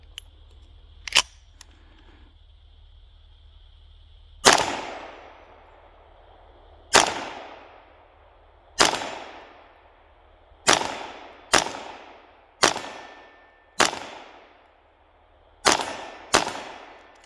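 A KelTec CMR-30 state-compliant rifle firing a ten-round magazine on iron sights, with sharp, loud individual shots spaced irregularly and each ringing briefly before fading, plus a few faint clicks early on.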